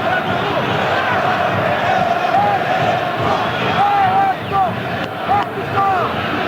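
Supporters of Corinthians chant and roar in the stadium during a 2000 Copa João Havelange match against Coritiba, a dense continuous crowd noise with rising shouts and whistles. It comes across loud and wind-buffeted throughout.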